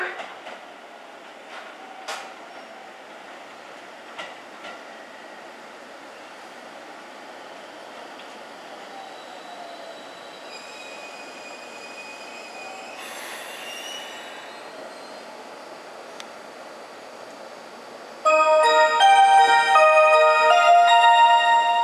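A train rolls into a platform at JR Obu Station in Japan with faint rumbling and scattered clanks, then loud, high-pitched wheel squeals ring out near the end.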